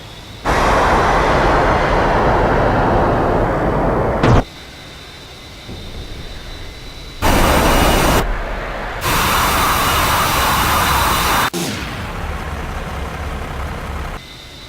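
A simulated A-10A attack jet's engines in DCS World roar as a broad, steady rushing whine, cut off abruptly and returning in loud blocks as the throttle changes, with quieter gaps of lower engine noise in between.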